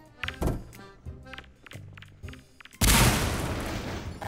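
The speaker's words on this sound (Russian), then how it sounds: "давайте я гранату брошу туда" A grenade explodes in Garry's Mod: a few dull thuds and taps first, then a sudden loud, close boom that settles into a sustained noisy rumble.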